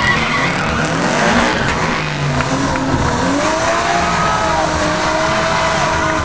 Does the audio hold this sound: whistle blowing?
no